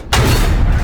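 A tank's main gun fires in World of Tanks during a battle involving an oversized Russian ELC AMX, one loud booming shot that swells in and then rumbles steadily without fading.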